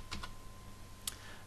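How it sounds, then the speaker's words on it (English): A few quick, light clicks sound from a computer keyboard as text is typed in. The taps are close and isolated against a quiet background hum. "so I'm going to type that in"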